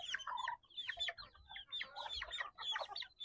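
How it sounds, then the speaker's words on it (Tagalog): A chicken clucks in short, bright bursts repeated in quick clusters over a few seconds, faint and fairly close in a backyard coop with bantam hens. "Ito lumabas yung ating funky chicken mga kodyo."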